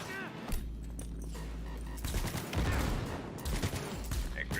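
Gunfire in the video game Cyberpunk 2077, a dense run of shots and bursts at steady loudness throughout, backed by game music and mechanical clatter.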